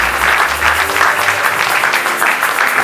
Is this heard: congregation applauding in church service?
yes